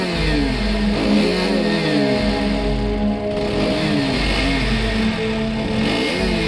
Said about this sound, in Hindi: जैसे ही पॉटी बॉय शॉन स्कूटर लेकर रॉड के पास आता है